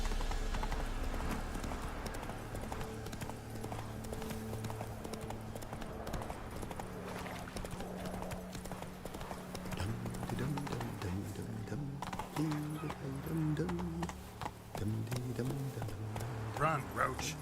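In The Witcher 3, Geralt's horse Roach gallops with quick, steady hoofbeats under game music and a speaking voice.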